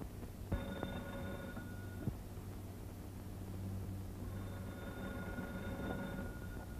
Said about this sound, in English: Miss Bates, the telephone bell is ringing.